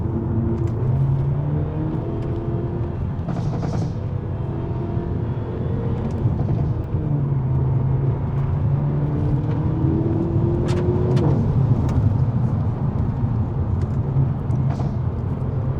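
A Hyundai i30 Sedan N driving, its engine a steady low rumble with road noise that holds evenly throughout, rising slightly in places as it accelerates, with no talking.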